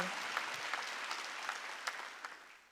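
A church congregation at a Wednesday worship service claps in a steady, rhythmic applause, fairly quiet and distant, with roughly regular beats under a soft wash of hand claps before fading at the end.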